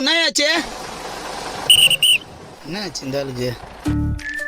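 A whistle is blown on a bus, giving two short, shrill, steady blasts among warbling, chirpy tones and other brief bus sounds.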